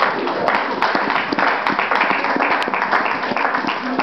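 Church congregation applauding and cheering in acclamation at a Montreal service, a dense, steady wash of clapping with sharp individual claps standing out and some voices mixed in throughout.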